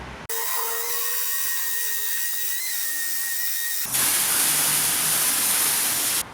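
A Ryobi 18V ONE+ powered outdoor surface cleaner scrubs orange residue off a house exterior, a steady, close, whining motor-and-brush drone that shifts to a harsher, hissier scrubbing tone partway through, with no talking.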